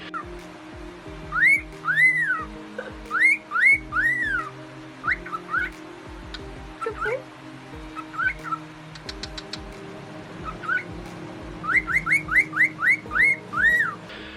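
A cockatiel makes repeating rising-falling whistles in bursts, mimicking a car alarm siren cycling through patterns, loud and close, with short pauses between sequences.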